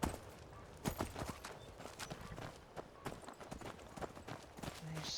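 Rapid, uneven hoof clip-clops of a horse in Skyrim Special Edition, fairly close, with sharp percussive hits scattered across a few seconds.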